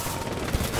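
Gunfire in the video game Death Stranding, a short burst of shots with one heavier thump near the middle of a brief, busy stretch of game sound.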